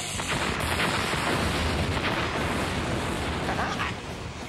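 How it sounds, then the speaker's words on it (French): Zeo laser super pistol from a Power Rangers TV episode firing, a dense burst of blasting effects and rumbling explosions, loud and sustained before easing off, mixed with speech. "Super pistolet Zéo laser."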